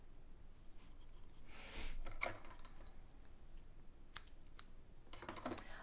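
A small piece of tape is torn off for card making, giving a brief close rasp followed by a few faint crinkles and clicks against a quiet background.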